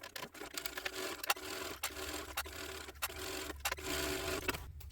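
A sewing machine top stitches a Linda sling crossbody bag in bursts of fast, even mechanical whirring, broken by short pauses and clicks, heard close and fairly quiet with no talking.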